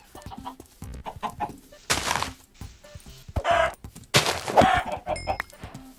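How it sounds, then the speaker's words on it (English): A chicken clucks in a video game, several short close clucks and squawks broken by bursts of louder noise and clicks, with no voices. "Chicken."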